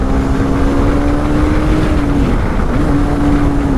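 A BMW car is driven fast, its engine giving a loud, steady drone under heavy wind rush, with a brief dip and rise in pitch partway through, as if shifting gear.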